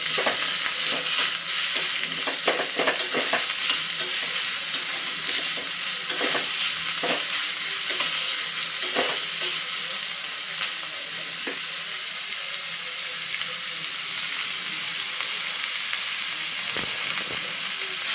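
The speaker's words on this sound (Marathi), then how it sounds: "कांदा आपल्याला छान गुलाबी रंगावरती परतून घ्यायचा आहे" Onion sautéing in a pan with garlic and chillies, a steady bright sizzle with frequent scraping stir clicks, close and loud throughout.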